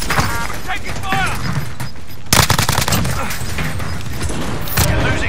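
Rapid gunfire in a Call of Duty match with an MP40 submachine gun in play, bursts of shots and booms over game effects, loud and dense with a sharp burst midway, with a voice talking over it.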